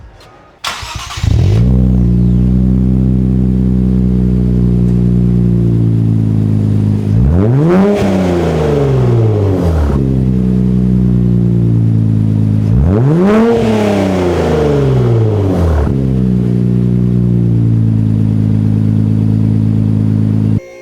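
A 2023 Nissan Z fitted with blowers and a SOHO single exhaust starts up, settles into a deep, loud idle, then is blipped hard twice with rising and falling revs, dropping back to a rumbling idle between pulls.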